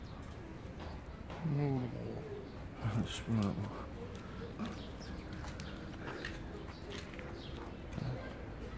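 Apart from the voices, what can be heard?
birds cooing in a zoo enclosure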